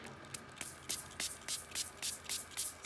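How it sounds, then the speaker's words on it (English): A handheld spray bottle mists water onto paper in a quick series of about nine short hissing squirts, close and fairly faint, with no talking. "I'm going to get my spray bottle, and I'm going to spray the whole thing with water."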